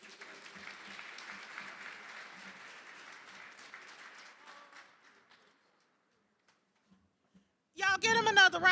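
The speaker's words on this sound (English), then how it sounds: "Y'all get him another round of applause." Audience applause at a Black Entrepreneurs Day program at the Capitol: a steady round of clapping that thins out and fades to near silence, followed by a burst of loud speech.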